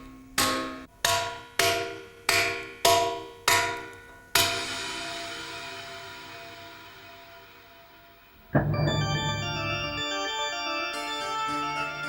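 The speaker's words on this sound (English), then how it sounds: "Chiseling marble takes concentration and brute strength to release the form trapped within the stone." Chisel blows on marble in Italy ring out in a regular series of about seven sharp, resonant strikes, then fade as music comes in.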